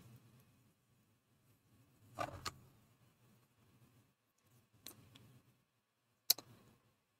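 Scissors trim stitches on the back of a fabric quilt block, giving a few faint, sparse snips and clicks spaced seconds apart in a quiet room.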